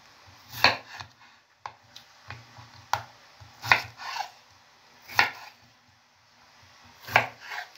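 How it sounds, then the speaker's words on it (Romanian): A knife cuts potatoes into large cubes or quarters with sharp, close chops on a board. There are about five strong strikes at uneven intervals with lighter taps between them, and no voice is heard. "Între timp, tai și cartofii, cuburi mari, sferturi mai bine zis."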